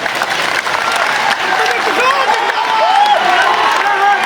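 Large political rally crowd in Muzaffarpur, Bihar applauding steadily for several seconds, a dense, loud wash of clapping with scattered cheers and voices mixed in.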